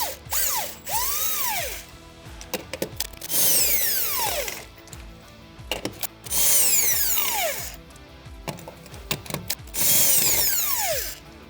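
A power tool whirs in several loud, rising and falling bursts as it removes a tire from a BOSS Snowrator SR MAG. Ratcheting clicks and mechanical clatter fall between the bursts, with no talking.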